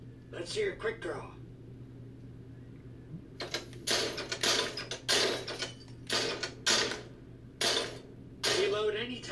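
A quick gun draw in the VR shooter Drop Dead, heard as a series of sharp mechanical clicks and clacks in uneven bursts, with a voice speaking briefly at the start.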